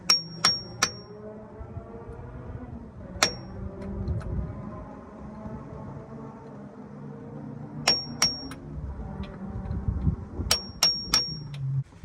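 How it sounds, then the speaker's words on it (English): Sharp metallic hammer strikes on a socket seating a seal on a RAM 1500 transmission ring out in small clusters, two or three quick hits at a time with pauses between, close and loud. "I'm gonna hit the back of the socket with a hammer and drive it in"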